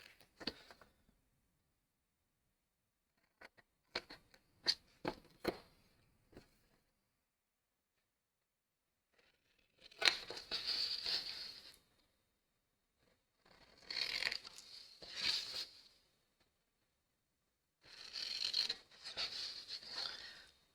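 Paper is cut for a frame, scissors snipping in quick short clicks at first, then longer crisp slicing strokes in three separate bursts, close and fairly quiet with pauses between.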